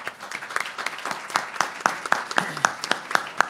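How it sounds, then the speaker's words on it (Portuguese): Sparse applause from a seminar audience on international trade, a handful of distinct hand claps at an irregular pace, fairly near and moderate in level, with no talk over them. "eu pediria um agradecimento e um aplauso para os palestrantes"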